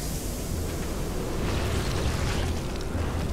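Gas release in StarCraft 2's Skygeirr Station, aimed at infested Terrans: a loud, steady, broadband hiss-roar fills the whole stretch without a break, like a powerful venting blast. Nobody speaks.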